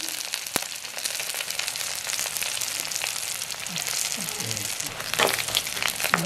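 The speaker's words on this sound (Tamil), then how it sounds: "கடுகு நல்லா வடிச்சிட்டு நாங்கள் செத்தல் மிளகாய் போடுவோம்." Mustard seeds and dried red chillies sizzle and crackle steadily in hot oil in a pan, a loud, close, continuous frying hiss with a few small pops and stirring scrapes.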